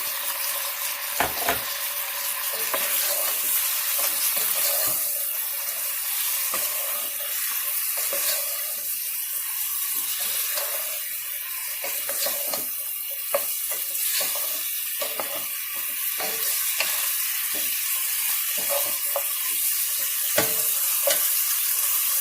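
Turmeric, salt, cracked coriander, black pepper and garam masala are stirred into frying chicken for noodle soup, giving a steady close sizzle broken by repeated scraping stirs and light clinks of a spoon against the pot.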